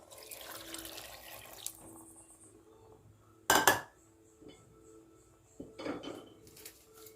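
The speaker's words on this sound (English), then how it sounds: "And we're gonna add some water" Water splashes and runs briefly into a cooking pot holding broccoli and cabbage, with a sharp clank of metal and soft kitchen clatter around it.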